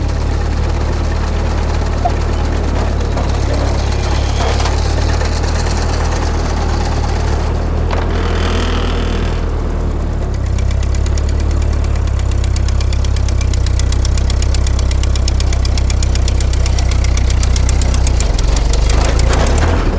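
A rock bouncer off-road vehicle's engine drones loud and close, a steady low rumble that briefly dips before swelling again and holding strong throughout.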